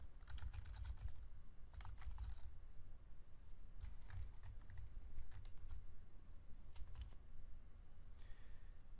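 Quiet, nearby typing on a computer keyboard: bursts of light key clicks come in short irregular runs, separated by brief pauses over a faint low background hum.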